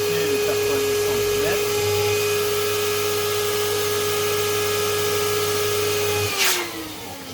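An electric balloon inflator fills a 90 cm latex balloon, a steady loud motor whine and rush of air running continuously for about six seconds before cutting off.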